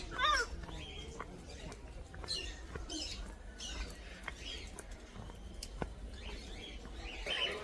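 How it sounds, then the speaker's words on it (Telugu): Shrill, scattered squawks and chirps from several parrots at Kothwalguda Eco Park in Hyderabad, overlapping in a noisy outdoor setting, with no single call dominating. "చిలుకలు అట్లా అరుతాయి"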